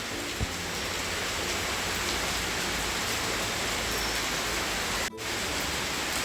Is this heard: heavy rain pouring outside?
yes